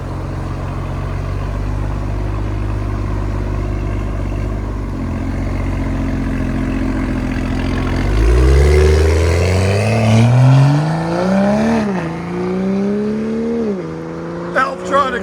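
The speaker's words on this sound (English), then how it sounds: "that sounds phenomenal. Beast mode out of the Valvetronic design system." A 2022 BMW M340i with a turbo 3.0-litre inline-six and Valvetronic down-pipe-back exhaust, valves open, idles with a deep rumble, then revs up sharply several times with rising, crackling blips, close and loud.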